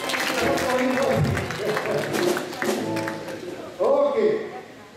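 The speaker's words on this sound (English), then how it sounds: "Clap for him. Clap for him." A church congregation claps during a Sunday service in a sustained spatter of clapping mixed with voices and cheering, swelling again near the end.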